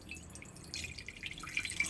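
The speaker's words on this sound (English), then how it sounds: "I'm going to take my Unicorn Fan Club glass of water, and I'm going to pour it over the eyeshadow" A glass of water is poured over eyeshadow, giving faint, close trickling and dripping that builds partway through with a few small splashes.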